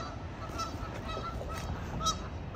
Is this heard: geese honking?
yes